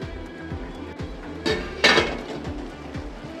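A metal lid clanks off a cooking pot and a spoon scrapes and stirs raw puti fish curry, with a couple of sharper clatters amid steady low scraping, close and fairly loud.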